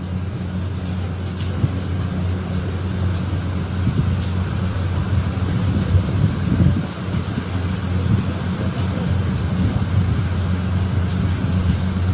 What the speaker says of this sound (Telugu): హైదరాబాద్ లో మరోసారి వర్షం దంచికొట్టింది